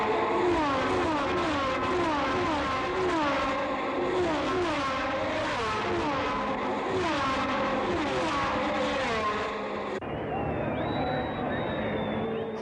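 Formula One cars of the 1970 South African Grand Prix roar past the pits at high speed, dense engine howls sweeping in pitch one after another, loud and continuous, with a commentator's voice over the top.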